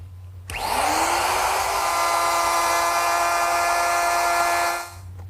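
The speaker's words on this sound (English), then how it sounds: "To make the dado, I'm going to use my router, which is equipped with a collar and a straight cutting bit." A router fitted with a collar and straight cutting bit cuts a dado in wood: a sharp start-up whine, then a loud, steady high-pitched scream held for several seconds before winding down.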